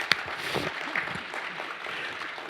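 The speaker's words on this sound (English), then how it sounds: "please give her a warm round of applause" A crowd applauds, a dense wash of clapping that stays fairly steady throughout the short stretch.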